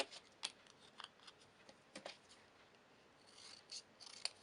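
Scissors snip through craft paper in close, quiet, irregular cuts, several crisp snaps spaced across a few seconds with soft rubbing of paper between them.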